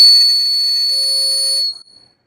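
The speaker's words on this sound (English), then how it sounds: "It is called toy bird water whistle." Toy bird water whistle blown dry, with no water inside: a steady, piercing high whistle holding one bright pitch for about a second and a half, then cutting off abruptly with a brief fading tail.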